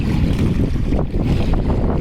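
Strong wind blows at the waterside on the Qatar coast, a loud constant rush that buffets the microphone, with the wash of water beneath it and no voices.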